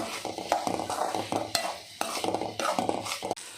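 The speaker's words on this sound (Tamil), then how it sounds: "மிக்ஸ் பண்ணிவிட்டு மறுபடியும் வேக வைங்க" A spoon scrapes and stirs ivy gourd poriyal in a pan with a light sizzle beneath, in irregular close strokes and taps against the metal.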